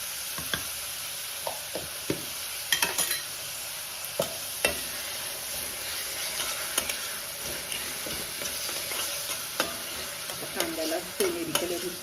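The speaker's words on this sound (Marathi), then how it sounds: "भाजून कांदा छान भाजला" Onion frying with ginger-garlic paste in a pan for a dudhi kofta curry, giving a steady close sizzle with repeated spoon-stirring scrapes and light clinks throughout, and no one talking.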